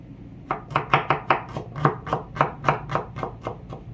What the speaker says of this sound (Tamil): கொஞ்சோண்டு வெங்காயத்தை எடுத்து வெட்ட போகிறோம்